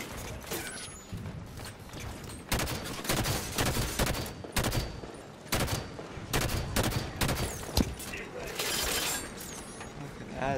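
Gunfire in the Halo 5: Guardians campaign: repeated loud bursts of automatic weapon fire with mechanical clanks between them, while voices talk over the shooting.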